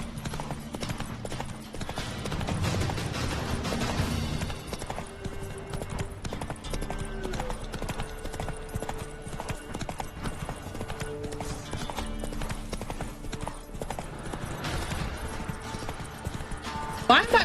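Roach, the horse in The Witcher 3, clip-clops along at a steady trot, hoofbeats under in-game music with a voice talking over them.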